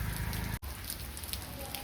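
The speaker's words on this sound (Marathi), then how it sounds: "पाऊस पडतो जाम" Heavy monsoon rain falls in Lonavala, a dense, steady hiss of drops pattering on surfaces that briefly cuts out for an instant before resuming.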